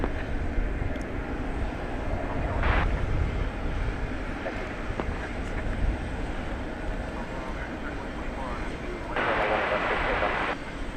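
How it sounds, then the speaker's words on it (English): An American Airlines Boeing 737-800 arriving from Denver at DFW Airport gives a steady, distant jet engine roar under continuous talk, with brief louder swells of noise. "Flight 1832 coming in from Denver, a 737-800."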